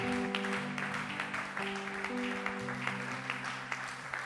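A church congregation claps together in praise, making a steady wash of hand claps over sustained keyboard chords. It is moderately loud and continuous for a few seconds.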